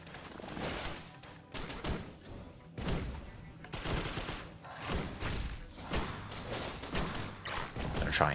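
Pilot firing a rapid-fire weapon in Risk of Rain Returns: dense bursts of repeated gunshot bangs rolling in waves across the whole stretch, loud and busy, mixed with thuds and game effects, no one speaking.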